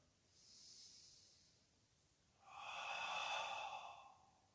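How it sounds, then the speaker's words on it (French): A long, breathy exhale during a pilates exercise, a soft airy rush that swells and holds for about two seconds after a fainter breath, close and alone with no talk. "j'inspire, je me regroupe et j'expire"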